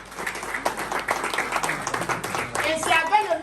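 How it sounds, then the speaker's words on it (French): An audience at an entrepreneurship talk claps for a speaker being welcomed, a crowd's scattered applause running throughout while a voice talks over it and grows more prominent near the end. "Est-ce qu'on peut l'applaudir s'il vous plaît?"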